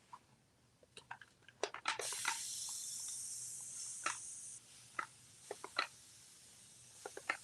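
A steady hiss of aerosol spray paint runs for a few seconds, surrounded by scattered soft clicks and taps, faint and close.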